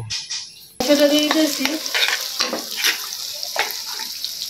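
Chopped onion and garlic hit a hot pan of oil with a sudden loud sizzle, then keep frying steadily while being stirred, with scraping and clinking close by in a home kitchen cooking deshi chicken.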